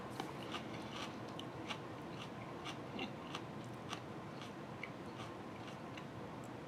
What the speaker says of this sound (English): I don't know if you can hear me crunching or not.